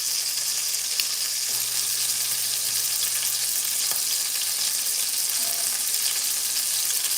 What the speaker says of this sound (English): And I like frying my steak in the bacon grease.